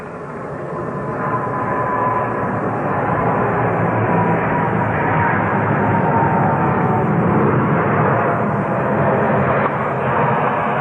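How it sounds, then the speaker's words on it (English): Airplanes fly overhead near LaGuardia during a 1972 US Open tennis match, a steady loud broadband jet roar rising and holding throughout, continuous and without talk. "Getting a lot of aeronautical noise, planes flying over."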